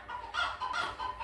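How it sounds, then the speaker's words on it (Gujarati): A hen clucking in three quick, close, rhythmic bursts, with no talking. "એક હતી કુકડે કુક મરઘી"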